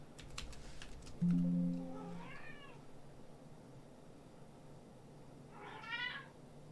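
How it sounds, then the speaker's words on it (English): A cat meows twice indoors, by a computer desk: one drawn-out meow early, then a second, brighter meow near the end. Both are clear and fairly close, with faint key tapping and a brief low tone between them. "My cat is very unhappy."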